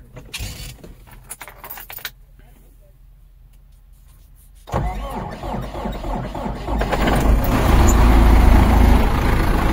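Keys jangle and rattle in the ignition before a farm vehicle's engine cranks and catches with a sudden loud roar, then builds to a heavy, rumbling idle close by.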